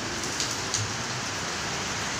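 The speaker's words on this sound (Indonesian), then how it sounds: "sudah agak sore, kebetulan turun hujan" Steady rainfall on a late afternoon, a dense continuous hiss of drops striking surfaces with a few brighter taps, even and unbroken throughout, no voices.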